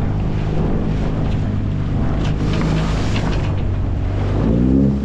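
Wind roars steadily over a microphone on a small fishing boat at a harbour entrance on the Black Sea, with a rough sea and breaking waves under a constant low rumble.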